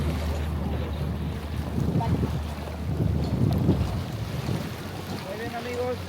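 A tour boat moving on water in Sumidero Canyon, Mexico, with a steady low engine rumble, water sloshing and wind buffeting the microphone, continuous throughout.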